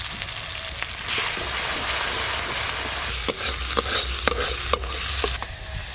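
Spice paste of turmeric, ginger-cumin paste and chili powder fries and is stirred in a pan for a fish and green tomato curry, giving a loud, dense sizzle broken by repeated spoon scrapes and knocks, no voices.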